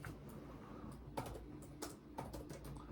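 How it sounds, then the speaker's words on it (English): Keys clatter on a computer keyboard in quick, irregular taps, fairly soft and close with no voice over them. "let me type in real quick."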